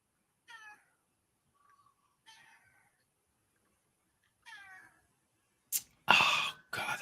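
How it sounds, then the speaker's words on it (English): A house cat gives three short, separate meows with quiet gaps between them, followed by a burst of louder, rough noisy sounds near the end. "I don't know what's up with the cat today."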